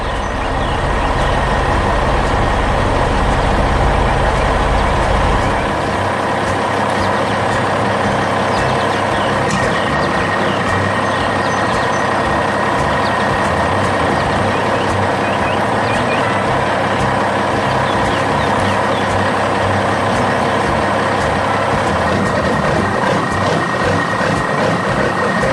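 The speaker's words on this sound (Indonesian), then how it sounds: "Lihat truk dump besar itu datang." A large dump truck carrying a load of stones arrives at a construction site, its engine rumbling loudly and continuously. A faint steady tone runs through the dense mechanical noise.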